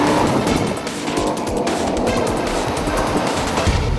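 2011 Audi RS5 engine under hard acceleration, a loud, continuous rising roar close by with tire and road noise mixed in, no voices.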